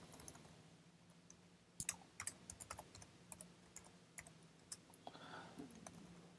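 Quiet, uneven keystrokes on a computer keyboard as a username and password are typed, the clicks coming in small bursts with short pauses over a faint room hum.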